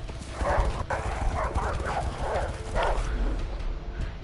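Rapid, galloping footfalls of dogs running in a video game, A Way Out, patter along steadily like horses, with faint whimpering yips over a rumbling game soundscape.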